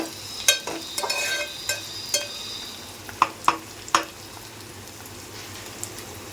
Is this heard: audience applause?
no